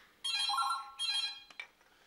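A telephone rings indoors in a home scene from a Syrian TV drama: two loud, close bursts of electronic trilling ringing separated by a short gap, followed by a few faint clicks. No one speaks.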